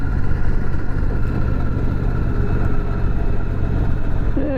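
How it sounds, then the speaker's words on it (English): Harley-Davidson motorcycle with flame paintwork, its engine rumbling steadily and loud throughout, a low throbbing idle with a brief rising rev at the end. "There's a motorcycle, looks like a Harley."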